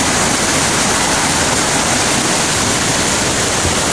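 A river runs high and fast after rain. Its steady, loud rush fills the whole clip like a waterfall, with no voices.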